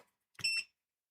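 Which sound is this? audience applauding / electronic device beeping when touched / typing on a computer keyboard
electronic device beeping when touched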